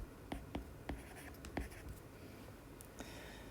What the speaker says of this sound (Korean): 그러면 weigh라고 써볼게요.